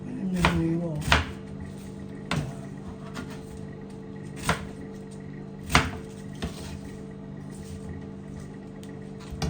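A knife chops vegetables on a cutting board in a kitchen, sharp distinct knocks arriving at an uneven pace a second or so apart, close and clear over a steady low hum.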